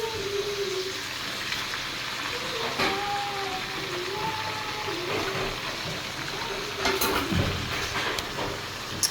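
Pork with crushed tomato, pechay and mustard greens sizzles in a pan as a utensil stirs and scrapes through it, with steady frying hiss and intermittent clinks close by; a voice speaks faintly at moments.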